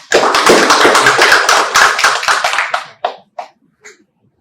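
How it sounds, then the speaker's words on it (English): Audience applause at a conference inauguration ceremony at South Asian University, Delhi: dense, loud clapping for about three seconds, then thinning to a few scattered final claps. "Let's give a big round of applause."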